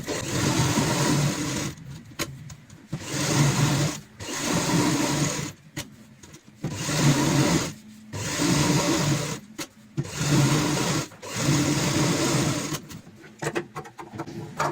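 Sewing machine stitching a cushion cover, running in repeated bursts of about a second or two with short pauses between, a close steady whirring hum each time.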